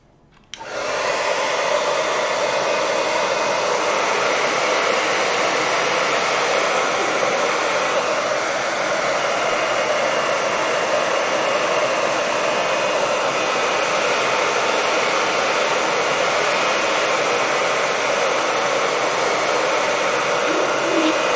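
A hair dryer blows steadily for about twenty seconds while drying a watercolor Christmas card painting, loud and close, a constant even whoosh that switches on at the start, with no voices.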